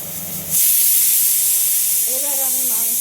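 A kitchen pressure cooker of meat on a gas stove bursts into a loud, steady rush of escaping steam, with a wavering whistle tone rising through the hiss near the end.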